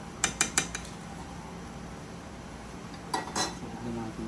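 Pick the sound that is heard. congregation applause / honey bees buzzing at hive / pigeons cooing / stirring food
stirring food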